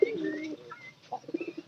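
Pigeons coo nearby, a low throaty cooing at the start and a few short soft coos later, with faint chirps and a quiet background.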